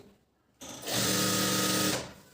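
Sewing machine stitching a joint on a blouse sleeve, a close whirring burst that starts abruptly, runs for just over a second and winds down, with no talking.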